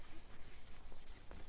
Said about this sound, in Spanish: Solo voy a lijar esta pieza para hacer el tutorial lo más rápido posible.